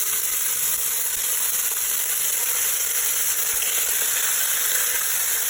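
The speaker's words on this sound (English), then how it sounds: "I'm using a Dutch oven by Le Creuset. We're going to sear our pork." Pork searing in a very hot Le Creuset Dutch oven, a loud, dense, continuous sizzle with no pauses, close up and alone.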